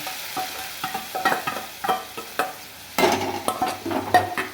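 A spoon scrapes and stirs through boiled lentils in a frying pan, in irregular strokes over a soft sizzle.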